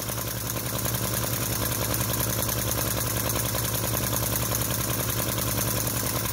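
A Chinese-made model V-twin flame-licker vacuum engine with PC heatsinks, running on meths, chugs with a fast, even, continuous rhythm, loud and close, with no talk.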